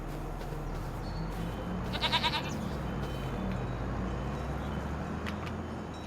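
Goats bleat in a Farm Sim 25 farmyard, a short burst of loud, wavering calls rising over steady low machinery rumble and ambient game noise, with no talking.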